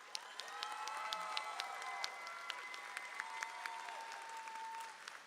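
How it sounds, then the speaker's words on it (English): Audience applause at a 2026 HISD graduation ceremony, a steady sustained clapping from a large crowd with a few sharper claps standing out, fading slightly toward the end. "Please join me in giving Mr. Tall, Mr. Segrin, Dr. Villa, and Ms. Coleman a well-deserved round of applause for the years of service"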